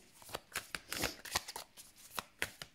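A tarot deck is shuffled and cut by hand, giving close, faint bursts of crisp card riffles and slaps in an uneven rhythm, with no talking.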